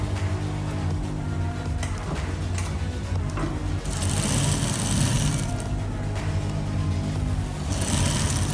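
A sewing machine top stitches a blouse neckline, giving a steady mechanical hum that runs throughout, with louder, brighter bursts of stitching in the second half.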